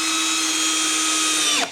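Cordless hammer drill on its lowest setting spins steadily as it drives a short 1.25 inch drywall screw, a loud continuous whine that drops sharply when the screw seats and the motor stops.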